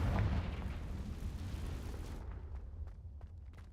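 A Confringo blasting spell in the game Hogwarts Legacy bursts in a deep, booming explosion at the start, its rumble fading out over a few seconds.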